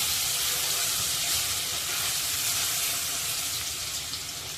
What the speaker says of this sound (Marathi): लसूण पेस्ट असल्याकारणे ती तळायला लागते